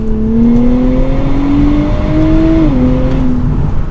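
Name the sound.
2023 Nissan Z Performance accelerating from 50 to 80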